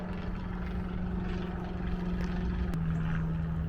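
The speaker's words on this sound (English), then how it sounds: "one of the neighbors is doing a flyover, they're about to come down" A small private propeller plane makes a flyover before landing over a residential airpark community, its engine drone steady and moderately loud across the whole stretch with a constant low hum, no voices.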